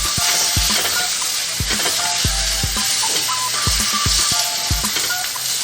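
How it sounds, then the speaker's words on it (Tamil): Cauliflower masala is stirred in a hot pan: a constant sizzle runs under a series of sharp spoon scrapes and knocks against the metal, spaced roughly every half second. "இப்போ நல்லா இந்த மாதிரி கிளறி விடுறோம்"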